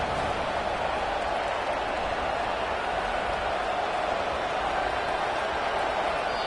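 Football stadium crowd roaring after a big third-down play, a broad, sustained wall of cheering that stays loud and even throughout, distant and diffuse with no distinct voices.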